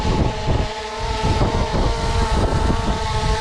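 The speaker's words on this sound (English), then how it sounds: "It is a little windy here." Wind buffets a microphone outdoors at the ponds, a loud, continuous rumbling roar with gusty swells and no voices.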